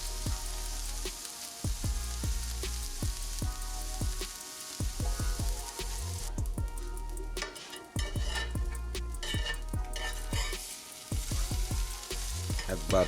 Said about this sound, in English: Then also on our griddle, we're gonna get our asparagus on.